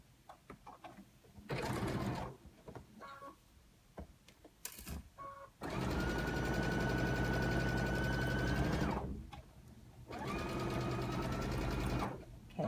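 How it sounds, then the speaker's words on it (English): A sewing machine stitching quilt binding at quarter-inch seam, running in three bursts of rapid mechanical whirring, the longest about three seconds, with quiet handling noises in between, close and moderately loud. "And then you just start sewing at a 1/4 inch again."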